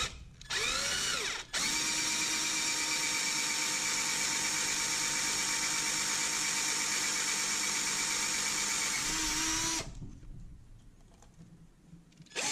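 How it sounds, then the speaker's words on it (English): A power drill bores holes for a trolling motor rudder mount: a short whirring burst, then one long, loud, steady high whine lasting about eight seconds before it stops, leaving quiet handling noise. "So now you go ahead and just drill right where the holes are."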